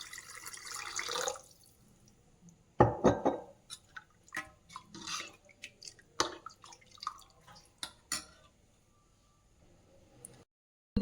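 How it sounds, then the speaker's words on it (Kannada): Water poured into mint buttermilk in a kitchen, a short splash and trickle followed by scattered drips and light clinks, close and fairly quiet. "ನಾನು ಇನ್ನೂ ಸ್ವಲ್ಪ ನೀರನ್ನು ಸೇರಿಸ್ತಾ ಇದ್ದೀನಿ"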